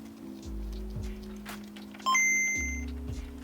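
An original Game Boy DMG plays its startup and menu sounds through its small built-in speaker: bright pings and short tonal blips over a low, pulsing tone. The sound is fairly loud and close, with no speech.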